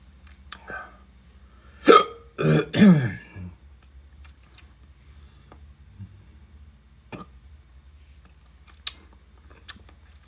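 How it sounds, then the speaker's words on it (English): A person hiccups after eating hot sauce, with a few sharp, close hiccup and throat sounds clustered early, followed by quiet with faint small noises. "There's a hiccup."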